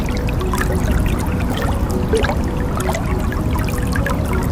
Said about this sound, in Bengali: আমি লাল শাকটা সুন্দরভাবে ধুয়ে নেব।